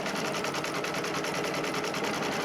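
An embroidery machine stitches a section of a zippered pouch in the hoop, a steady, rapid mechanical rattle of needle strokes running close and loud throughout with no voices.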